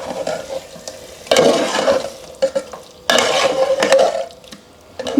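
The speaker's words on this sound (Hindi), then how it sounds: "अभी इसको हम अच्छी तरह मिक्स कर लेते हैं।" A spoon scrapes and stirs chicken curry with garam masala in a hot pan, two loud sizzling, rattling bursts of stirring with quieter clinks between them.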